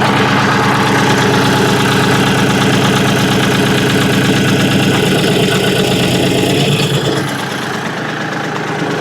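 A Kioti CK compact tractor's diesel engine runs steadily at idle, a loud, continuous close-up rumble with a slight drop in level near the end.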